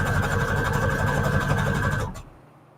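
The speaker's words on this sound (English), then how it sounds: "Because I'm going to sew all the way around" A sewing machine stitches steadily around the edge of a junk journal card, a loud, even mechanical whir that runs without a break for about two seconds and then cuts off abruptly.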